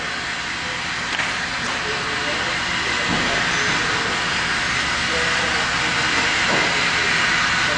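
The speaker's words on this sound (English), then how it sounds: "now she's going to take this heat gun" A heat gun heating material, a loud continuous blowing hiss with a faint underlying whine, steady throughout the clip.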